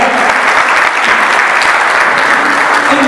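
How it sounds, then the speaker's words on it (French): Dense, steady applause from a conference audience in a hall, welcoming a speaker to the podium at an energy transition talk; loud and sustained throughout with no voices over it. "Je vous demande une salle d'applaudissements pour M."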